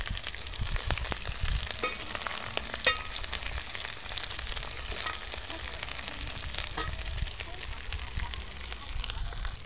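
Omena, small fish, fry in a pan with turmeric and garlic, giving a steady crackling sizzle with scattered pops that runs the whole time, close and moderately loud.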